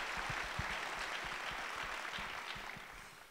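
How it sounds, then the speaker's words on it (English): Applause from a conference audience at an investigative journalism awards gathering, a steady dense patter of many hands clapping, sustained throughout and slowly fading toward the end. "I think he deserves another round of applause"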